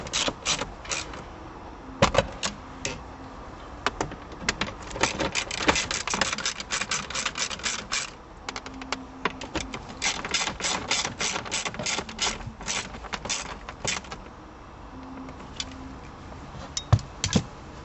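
A socket ratchet tightens the shifter bolts, clicking in rapid bursts of pawl ticks with short pauses between strokes, close and fairly loud throughout.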